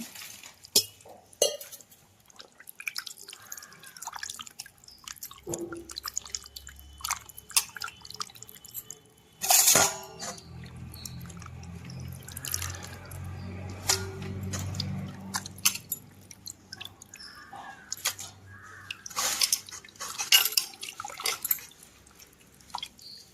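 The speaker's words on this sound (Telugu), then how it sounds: "చికెన్ని వాటర్ పోసుకొని శుభ్రంగా కడిగేసుకుందాం అండి రెండు సార్లు వరకు" Raw chicken pieces are rinsed in water for a village-style chicken curry with fenugreek leaves, giving intermittent splashes, drips and light clatters of a vessel, with one brief louder slosh and quiet stretches between.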